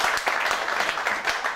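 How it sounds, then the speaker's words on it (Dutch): Crowd applause at an indoor futsal tournament hall, honouring the referees; steady, dense clapping fills the short stretch at moderate loudness with no talk over it. "Mag ik een applaus voor de scheidsrechter?"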